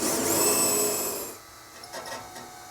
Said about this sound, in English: we'll use a drill bit, and we'll install a grabber screw right through the back